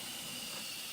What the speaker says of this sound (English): And this is the steam from here.